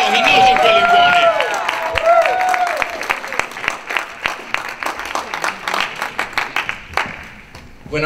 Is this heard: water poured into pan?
no